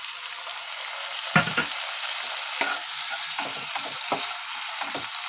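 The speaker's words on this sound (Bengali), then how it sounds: "ভালো করে নেড়ে চেড়ে নেব দিয়ে দেব টমেটো মশলাটা ভালো করে কষানোর জন্য একটু জল ঢেলে দেবো" Tomato masala for a brinjal, potato and river fish chachchari frying in a pan, a steady hiss of sizzling oil broken by several light scrapes and taps of a spatula stirring, with no talking.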